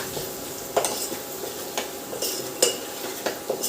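Spices heat in oil for khichdi, giving a soft, steady sizzle close by. A utensil clinks against the pan several times as the mixture is stirred, with no talking.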